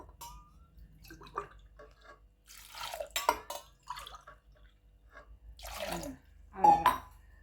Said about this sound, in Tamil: சின்ன கிளாஸால் மூணு கிளாஸ் தண்ணி ஊற்றுறேன்